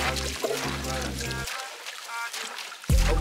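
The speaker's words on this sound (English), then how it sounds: "Just the hose going, so it does like a circle." A garden hose runs water into a cold plunge ice bath, making a steady pouring rush that is partly masked by people talking nearby.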